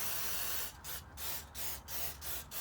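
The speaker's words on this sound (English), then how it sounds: "just get some brake cleaner. Now you want to spray carefully." An aerosol can of brake cleaner sprays in a steady hiss, broken by several short pauses into repeated bursts, close up, used on the brake calipers of a BMW E90.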